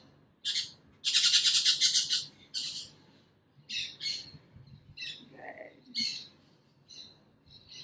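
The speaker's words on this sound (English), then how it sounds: "There's a bunch of birds here." Several birds chirp and call outdoors in bursts of bright, high-pitched tweets and squawks, fairly close and clear, with short pauses between calls over a quiet background.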